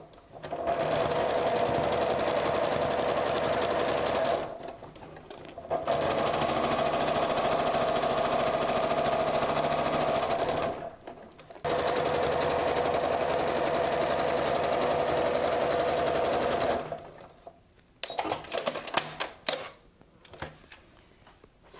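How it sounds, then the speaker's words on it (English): A sewing machine stitches wavy lines in purple variegated thread on a fabric-and-tulle art card, whirring steadily in three long close runs separated by brief pauses, then a few short stop-start bursts. "I've put my purple variegated thread into my machine, and I'm going to do wavy purple lines starting here from above where the loose fabric is all the way to the top"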